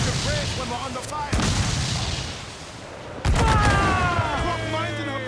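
Ship cannons fire during a naval battle in Assassin's Creed 4: Black Flag, two heavy booming blasts a couple of seconds apart, each followed by crackling debris and rumble, with game dialogue and ambient sea noise between shots.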